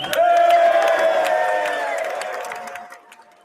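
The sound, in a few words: crowd cheering at State of the Union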